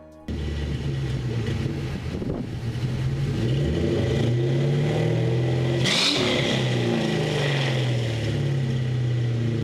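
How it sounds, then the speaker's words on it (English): A Mustang GT V8 engine rumbles steadily, then revs up to a louder, rising roar before settling back, close and with no talking. "a great sounding V8 engine"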